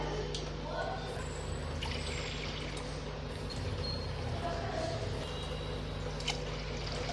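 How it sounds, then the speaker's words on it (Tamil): Water pouring steadily into a pot of lentils for sambar over low kitchen hum, a continuous soft splashing trickle lasting several seconds. "நான் பருப்பு எடுத்த அதே கிளாஸால் தான் நாலு கிளாஸ் அளவு தண்ணி சேர்க்குறேன்"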